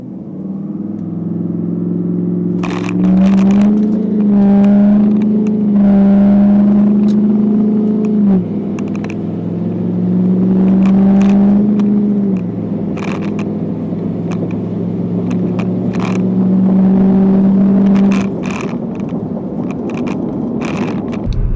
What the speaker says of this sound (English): Truck to get down the racetrack there with that turbo.